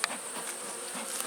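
Honeybees buzzing during a springtime beehive inspection, a continuous high steady drone close by, filling the short moment alone without talk.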